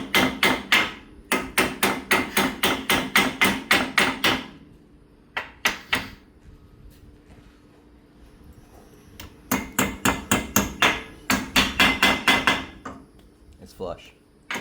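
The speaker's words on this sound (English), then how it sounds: "you just take a hammer and tap those pins in from the backside" Close, sharp metallic hammer taps driving Brembo brake caliper pins in from the backside on a 2003 Cobra, in rapid bursts of evenly spaced strikes separated by quiet pauses and a few lone knocks.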